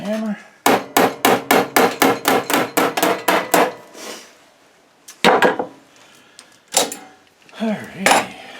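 A small hammer taps on a woodstove oven top, starting with a quick, steady run of about fourteen sharp metallic-wooden knocks. Several scattered, heavier taps follow after brief pauses, all close and loud.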